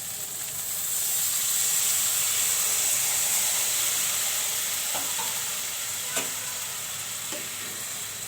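Fried bhangna fish cooks in a spiced curry after water is poured in, with a steady bubbling sizzle and hiss and a few soft knocks of a stirring spoon.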